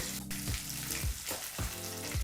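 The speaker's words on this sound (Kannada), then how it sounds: "ಲೋ ಫ್ಲೇಮ್ನಲ್ಲೇ ಐದು ನಿಮಿಷ ಈ ಪೇಸ್ಟನ್ನೆಲ್ಲ ಒಗ್ಗರಣೆಯಲ್ಲಿ ಫ್ರೈ ಮಾಡಿಕೊಂಡ್ರೆ ಸಾಕು" Coriander leaf paste frying in an oil tempering over a low flame, a close, continuous sizzle and bubbling with a few soft stirring scrapes along the pan, and no talk.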